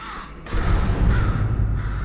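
A crow caws repeatedly in the Portal 2 video game, loud and close, the harsh calls running together over a steady background hum with no speech.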